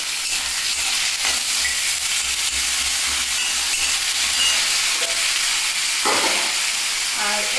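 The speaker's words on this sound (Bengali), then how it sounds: "কালো জিরে, পেঁয়াজ, রসুনটাকে ভালো করে ভেজে নিচ্ছি।" Black cumin, onion and garlic frying in a little oil, giving a steady close sizzle with faint stirring scrapes and a brief clatter near the end.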